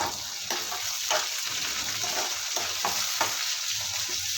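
Tomatoes frying with fish masala in a pan give a steady, close sizzle with occasional stirring scrapes, no voices.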